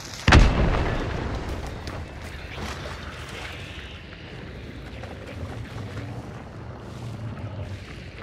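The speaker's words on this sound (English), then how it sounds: "I dynamited in there" Dynamite blast in the Hunt: Showdown video game, a single sharp, loud boom near the start, followed by a long rumbling, creaking tail.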